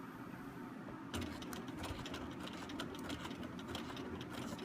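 Sewing machine stitching a quarter-inch seam on quilt pieces, a faint steady mechanical hum that starts a rapid fine stitching patter about a second in and keeps running, with no one talking.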